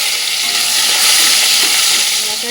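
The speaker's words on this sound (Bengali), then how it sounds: "দুটো শুকনো লঙ্কা গোটা দিয়ে দিলাম দেবো একটু সাদা জিরে এগুলো একটু ভালো করে ভাজা ভাজা করে নেবো" Whole dried red chillies and white cumin seeds fry in hot oil in a pan, with a loud, close, unbroken sizzle and hiss.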